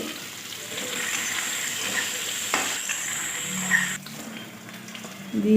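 Okra and green mango frying with whole spices in hot oil left from frying rui fish, a steady close sizzle with stirring scrapes and a louder crackle near the end.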